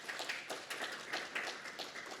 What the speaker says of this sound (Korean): 여러분들 우리 감사의 박수 한번 좀